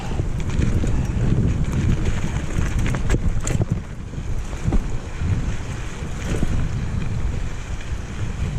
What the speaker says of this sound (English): You can hear the river raging next to me.